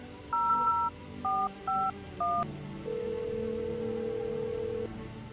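A cordless phone in the video game No, I'm Not a Human gives four quick keypad dialing beeps, followed by a steady thin ringing tone on the line.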